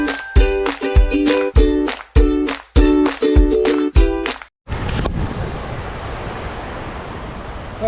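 Ocean waves wash onto a beach as a continuous, breathy rush of surf over the last few seconds. Several sharp, rhythmic, tonal thumping bursts come first, and no one speaks.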